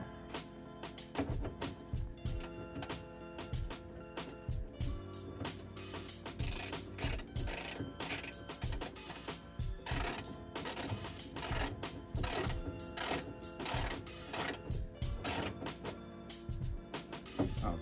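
A ratchet tightening a nut on a Nissan 370Z door card, giving rapid, close clicking bursts in repeated strokes with short pauses between them.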